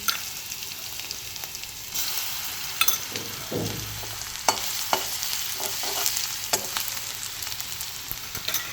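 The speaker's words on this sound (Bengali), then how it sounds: "রসুনটা দেওয়ার সঙ্গে সঙ্গে ভাজা হয়ে যায়।" Crushed garlic sizzles in hot oil in a kadai with dried red chillies, with a steady frying hiss throughout and irregular scraping stirs of a spoon against the pan.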